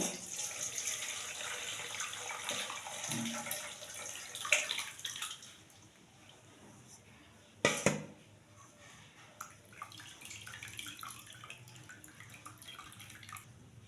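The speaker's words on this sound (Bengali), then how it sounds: "এখন আমি লোটে মাছগুলো ছেঁকে নেব।" Hot water pours and splashes as Bombay duck fish are strained in a kitchen, a running, hissing wash with a few sharp clatters and drips, moderately close and without talk.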